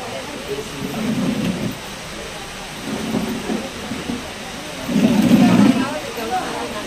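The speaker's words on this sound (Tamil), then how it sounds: "மழையை தந்ததற்காக நன்றி." Rain falling steadily with low thunder rumbles rolling in three times, the last one loudest, heard at a distance outdoors with no talk.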